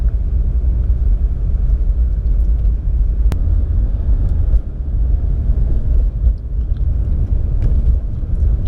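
BMW 335i E90 with an automatic transmission on an Alpina transmission tune, driven gently with a steady low engine and road rumble from inside the cabin.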